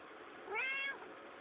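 A single clear meow from a hungry cat, rising then holding briefly, close and fairly loud against a quiet background with no talking.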